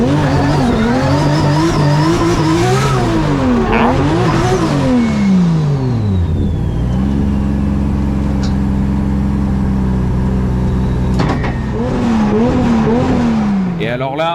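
Drift car at a French drift championship round on a mountain course, engine revving hard with rising and falling pitch as tires squeal and skid through a long slide, loud and close with crowd ambience.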